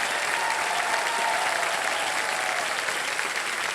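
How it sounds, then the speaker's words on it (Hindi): Studio audience applause on a TV quiz show, a dense, steady wash of clapping that holds at even loudness from start to finish with no voices over it. "आइए बहुत बड़ा तालियां बज जाए इनके लिए"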